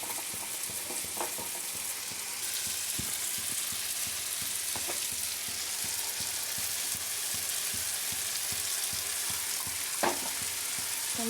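Ivy gourd and chana dal fry in a pan with a steady, close sizzle, and a spoon scrapes and stirs in scattered clicks throughout, with no talking.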